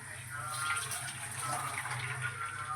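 Water poured into a pan for semiya upma, a continuous gurgling splash that runs steadily and fairly close for several seconds without pause.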